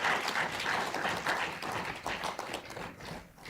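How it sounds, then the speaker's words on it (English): Conference audience applauding the three presenters at the closing of an African parliamentary speakers' meeting, a steady wash of many hands clapping that fades slightly toward the end. "I think we need another round of applause for the three presenters of Modern Law."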